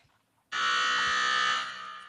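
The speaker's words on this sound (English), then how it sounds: "So I can find my buzzer." Electronic buzzer on a show stage sounds once, a loud steady tone lasting about a second and a half before fading, heard alone after a quiet start.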